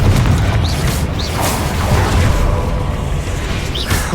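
Blasting spells are cast in Hogwarts Legacy combat, with booming impacts and whooshing bursts layered over a dense, continuous game soundscape.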